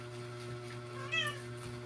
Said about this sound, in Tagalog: O kuting na to.